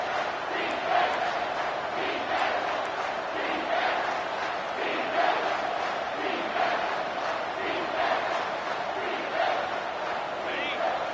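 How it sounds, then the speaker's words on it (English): A stadium crowd roars without a break in the college football video game NCAA 25, a dense, loud, sustained wall of cheering and yelling that stays steady for the whole stretch. "Third down, and this crowd is tearing the lid off this place."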